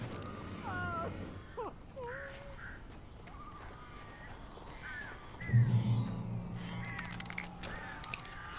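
Crows caw repeatedly in the video game Alan Wake Remastered, harsh calls that come in loose bursts at moderate distance, with a thump and scattered clatter partway through.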